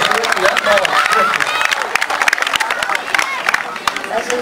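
Crowd at a 2014 tournament opening in Salacgrīva clapping, brisk continuous applause with a hubbub of voices mixed in, close and fairly loud.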